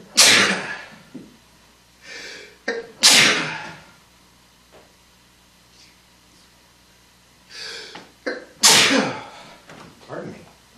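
A sharp, loud sneeze bursts out near the start, followed by sniffs and another forceful sneeze later, with quiet breaths in between.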